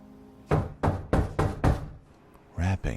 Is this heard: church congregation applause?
no